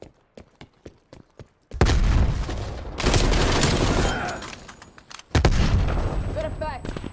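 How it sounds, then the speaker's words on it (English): Call of Duty: Cold War match: a string of sharp single gunshots gives way to heavy frag grenade blasts and sustained gunfire bursts, loud and close, with rumbling booms and a few faint voices and electronic tones in the mix. "Sending frag grenade."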